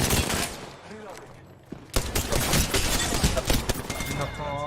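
Gunfire from an Apex Legends weapon crackles in dense bursts, loud and close, with a sharp break near the two-second mark and a mix of game effects running throughout.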